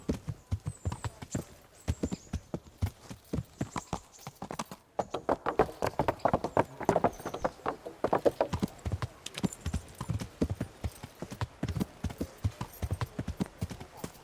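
Horse hooves clip-clop steadily and rhythmically in the medieval game Kingdom Come: Deliverance, a quiet, continuous trot that carries on alone for several seconds.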